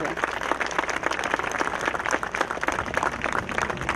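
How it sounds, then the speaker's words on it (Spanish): Audience applause at a medal presentation to the APRA party during a La Molina district anniversary ceremony, dense steady clapping throughout with voices mixed in. "Fuerte las palmas para ellos"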